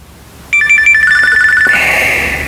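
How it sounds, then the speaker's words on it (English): A phone ringtone starts abruptly after a brief quiet moment and rings loud and close as a steady electronic melody, changing to a brighter warbling tone near the end, with no speech over it. "I'm sorry that my phone rang in the middle of that"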